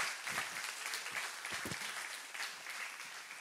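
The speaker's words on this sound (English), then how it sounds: "let's give Pastor Phil a round of applause" A church congregation gives a guest pastor a round of applause, dense steady clapping filling the room at moderate volume, with a few louder claps standing out.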